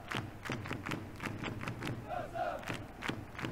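Stadium crowd from Football Manager 2021 roars and chants continuously, a dense, loud wash of cheering and clapping with rhythmic thumps, as a substituted Barcelona player leaves the pitch.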